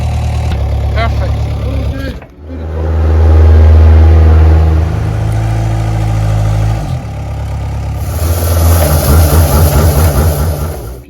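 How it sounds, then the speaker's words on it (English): A forklift engine runs loud and steady while garden gravel bags are moved and piled, its low drone swelling as it works and then settling back toward a rough idle. "make a pile there and a pile there with a forklift"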